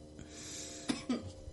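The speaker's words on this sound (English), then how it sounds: "That cough, man." A person coughs several times in quick short bursts, close and fairly quiet, with a throat-clearing sound mixed in.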